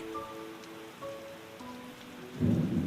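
Rain falls as a sound effect, a steady soft hiss over faint sustained tones, swelling into a heavier, louder downpour near the end.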